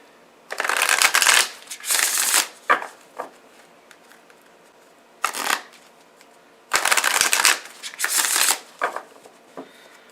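A deck of oracle cards is shuffled in several bursts of riffling and sliding, with pauses between, loud and close with no talking.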